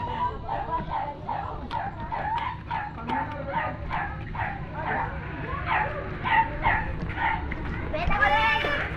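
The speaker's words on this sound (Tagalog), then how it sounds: "Ay, may aso doon. Na itim." A black dog barks and yips repeatedly outdoors, short sharp bursts recurring steadily at moderate distance while someone talks over them.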